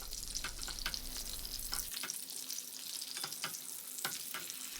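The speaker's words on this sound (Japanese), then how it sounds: "一旦油を取り除いたら火加減を中火の弱火にしてこのままじっくり皮目を焼いていきます" Duck breast skin-side down, searing undisturbed in a pan of rendered fat over medium-low heat, gives a steady close sizzle with scattered sharp crackles and pops throughout, no voices.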